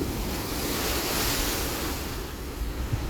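Powerful waves crash at the Kizhur estuary in Kasaragod, a dense, continuous wash of surf and wind noise that stays loud and even throughout.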